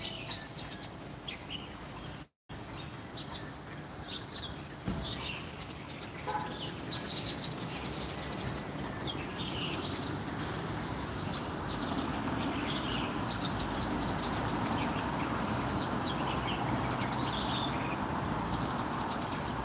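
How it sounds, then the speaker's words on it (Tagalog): Many birds chirp and tweet outdoors in a dense, continuous chorus with insect-like buzzing, heard moderately far off and steady throughout, with no talking. "Ang daming ibon, mga langga. Grabe."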